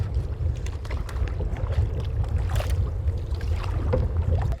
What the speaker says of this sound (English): for such a little lake, it sure does gather a lot of wind